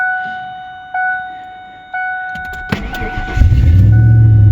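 A used Ford F-150 pickup's ignition dings and clicks, then the engine cranks and catches, settling into a deep, rumbling idle close by through a Flowmaster-style exhaust.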